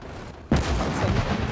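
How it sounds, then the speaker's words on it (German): Cannon fire in the World War II strategy game Gates of Hell: after a quiet moment, a sudden loud blast sets off a dense, rumbling barrage that carries on to the end, with no talking. "da kommt direkt drei Kanonenschüsse zurück"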